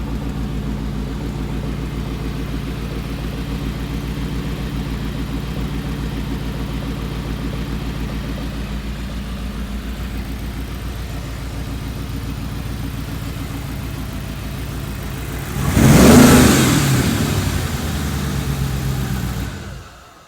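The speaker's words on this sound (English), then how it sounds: "We've got a misfire on driver's side still" A car engine with a misfire on the driver's side idles with a low, uneven rumble, then revs briefly in one loud swell before settling back.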